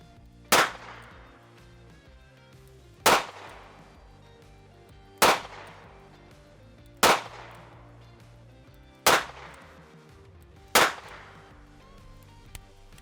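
Six evenly spaced shots from a snub nose revolver firing 132 grain ammunition at 7 yards, each a sharp loud crack with a short ringing decay, about two seconds apart.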